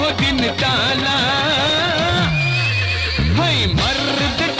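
In a Bhojpuri film, a horse gives loud, close, repeated whinnies with rising and falling pitch, mixed with clip-clopping hooves.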